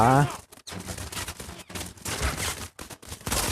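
Video game gunfire in Modern Combat 5: Blackout, loud sustained automatic bursts and volleys filling the whole stretch with only brief gaps, close and dense.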